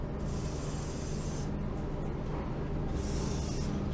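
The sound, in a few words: spraying fast release penetrant onto car door lock levers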